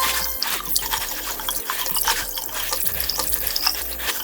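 Lukewarm tap water runs steadily into a bathroom sink while someone rinses their face, a continuous close splashing stream with no talking.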